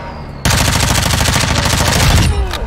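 Sustained automatic gunfire in the video game DMZ: a loud, close, rapid stream of shots rattling without pause for about two seconds before tapering off, with no talk over it.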